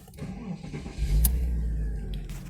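A Porsche Boxster Tiptronic engine cranks and fires, settling into a low, steady idle rumble close by, with a brief click near the start.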